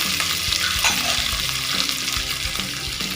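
Carrot, cauliflower and beans stirred as they fry in a pressure cooker for fried rice, a close, steady sizzle with a run of scraping spatula strokes against the pot, no talk.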